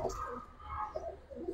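A silver-patterned pigeon among a collection of Giribaz and colour pigeons gives soft, low cooing in short, repeated bursts, faint and close.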